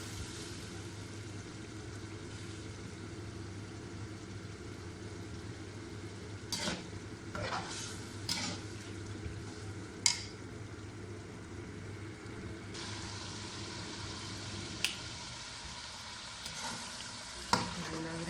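Sheekhi gosht, meat with its fat, fries in a pot with a steady, low sizzle, while a spoon stirs and scrapes in several sharp, close clanks over the cooking noise.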